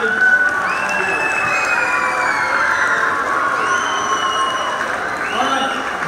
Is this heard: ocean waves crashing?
no